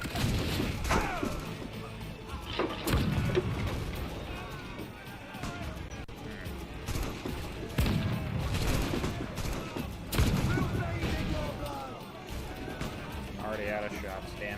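Gunfire breaks out in a pirate battle in Assassin's Creed IV: Black Flag, with sharp shots and crashing impacts scattered through a loud, busy melee and voices shouting over the combat.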